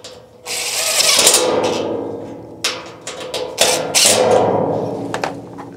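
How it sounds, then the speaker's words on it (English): A cordless drill drives screws into a movable outdoor dining cart, making several loud whirring bursts of the motor with ratcheting clicks between them. "I'm using my cordless drill, but you can do it with the provided screwdriver as well."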